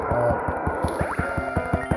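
Muddy Water attack effect in the Pokemon Gaia video game, splashy dripping and squishing water sounds over a rhythmic pulsing battle music loop, loud and close, with no talking.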